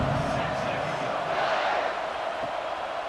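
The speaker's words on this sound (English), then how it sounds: "this crowd is buzzing after that last score" Stadium crowd in the video game College Football 26 during a Texas vs Arkansas game, a steady loud roar and buzz that runs throughout, with a voice speaking over it.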